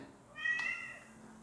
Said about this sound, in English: I got rid of the cat. A bit too noisy.